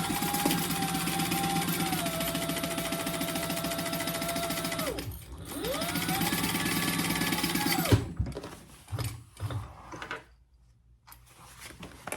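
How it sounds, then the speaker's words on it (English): A sewing machine stitching the front slip pocket of a crossbody bag, a loud steady mechanical whir that pauses briefly and resumes, then gives way to quieter fabric handling and clicks. "we are going to sew this piece, the front slip pocket to that bottom G piece"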